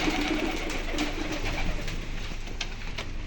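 Pigeons coo steadily in a pigeon farm, a soft continuous chorus of several birds close by with no talking.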